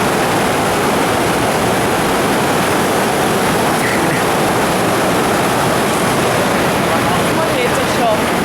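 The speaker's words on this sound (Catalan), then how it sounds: "la cascada de la mitja" The Cascada de la Mitja waterfall in foggy Andorra gives a loud, continuous roar of falling water that fills the whole stretch without a break.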